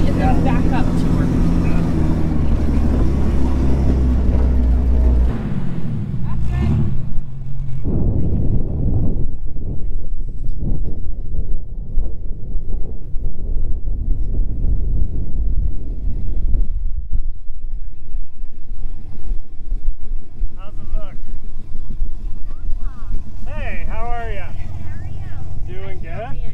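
A truck pulling a trailer and driving through sand dunes: a loud, steady engine roar with heavy wind buffeting that eases after the first few seconds, while people talk over it.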